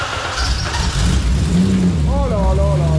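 A car engine cranks without catching, a loud close whirring turnover under a man's excited speech.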